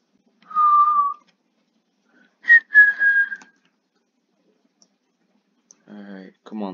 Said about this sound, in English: I really need to stop whistling